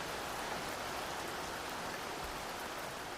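Steady rain hisses as a dense, even wash of sound, continuous and unchanging, with no voices.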